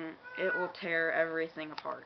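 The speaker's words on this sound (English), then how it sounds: "Sorry, that's my cat." A pet cat meows several times close by, long drawn-out tonal cries with short breaks, while someone speaks over it indoors.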